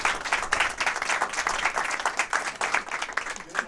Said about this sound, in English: Please give a really round of applause for